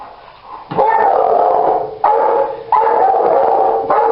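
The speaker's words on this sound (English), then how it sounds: "As long as you hear him barking about every 10 seconds, you know everything's okay" A puppy barks in three sharp bursts close by, each bark followed by a sustained yelping howl, with short gaps between them and no talking.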